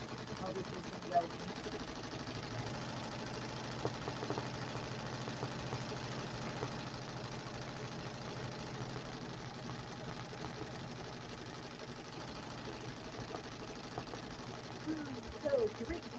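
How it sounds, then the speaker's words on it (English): An embroidery machine stitches a logo onto a project bag with a steady, fast mechanical chatter at moderate distance, continuing unbroken for a long stretch, with a few louder knocks and a faint voice now and then. "I'm just stitching out my No Idle Hands logo on a project bag"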